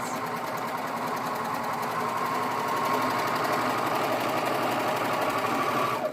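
A serger runs steadily, stitching swimsuit fabric with a fast, continuous mechanical whir and dense rattling that holds at an even level for about six seconds before cutting off abruptly.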